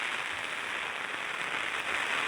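Torrential monsoon rain pouring over flooded fields at Waghera village near Trimbakeshwar, a thick, unbroken hiss and roar that stays loud and even throughout, with no talking.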